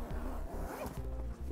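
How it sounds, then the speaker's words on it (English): A zipper on the side of a custom seat cover for a 2013 Ford F-250 is pulled open in a rapid series of close, crisp ratcheting zips. "We've actually got a zipper on the side"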